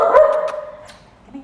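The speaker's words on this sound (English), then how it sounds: "They look like puppies, but they are actually 2 to 3 years old, and they are very, very shy." Shy young dogs bark at an animal shelter, a few sharp close barks early on that trail off into quieter whimpering yips.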